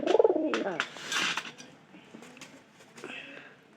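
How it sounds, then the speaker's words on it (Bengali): Pigeons being fed coo nearby in low, rolling calls, the loudest at the start, with softer coos and light fluttering and pecking sounds following. "পায়রাটা কিরকম ভাবে আইতেছে।"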